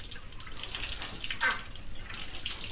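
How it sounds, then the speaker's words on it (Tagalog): Water runs from a faucet attached to a light hand pump at a project site in Tarlac City, a soft steady splashing flow with some dripping, fairly faint and close. "Itong gripo nila."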